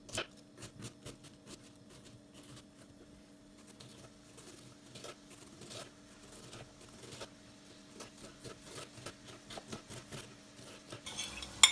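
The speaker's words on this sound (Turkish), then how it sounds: "Soğanlarımı doğramaya geçiyorum." Rapid knife taps on a cutting board as onions are chopped, a quick, uneven rhythm of light strokes, close and fairly quiet, with no talking.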